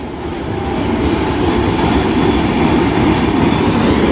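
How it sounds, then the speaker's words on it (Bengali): A train runs loudly and steadily along a railway line, with a continuous close rumble and rattle of wagons that carries through the whole stretch. "লাইনে এখন ট্রেন আসতেছে আপনাদের সকলকে এখন দেখাবো"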